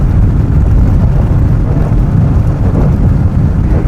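An Aston Martin drives through shallow water on the Bonneville salt flats, producing a loud, continuous low roar of tyre spray, road rumble and wind buffeting with no let-up.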